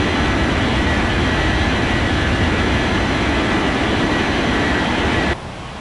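A KLM jet airliner in an air traffic control game rolls for takeoff on runway 14 left, a loud, unbroken broadband engine roar that drops off sharply just before the end.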